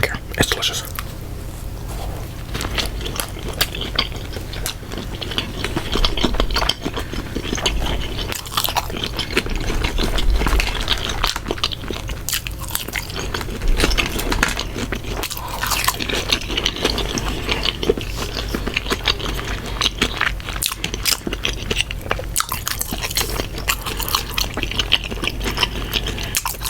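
Chili cheese dogs and fries being eaten close to the mic, with steady crunching, biting and wet chewing running continuously over a constant low background hum.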